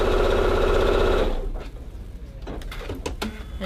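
A sewing machine stitches fabric strips in a loud, steady mechanical whirr for just over a second, then stops, followed by quieter handling noises and a few light clicks.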